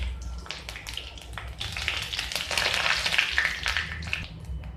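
Whole spices and bay leaf frying in hot oil for an Odia-style potato curry with pakodi, a steady crackling sizzle with scattered pops, close and moderately loud, no voices.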